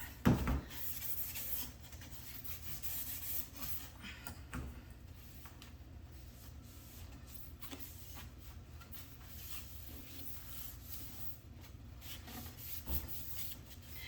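A SurfPrep 3x4 Electric Ray sander works over a cabinet door with a steady, continuous abrasive whir and rubbing, the motor droning evenly throughout without any talking.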